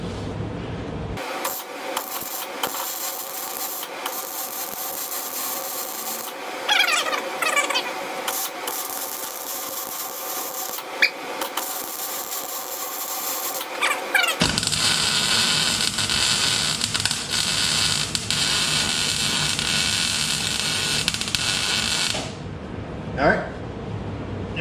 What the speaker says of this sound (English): let's weld her up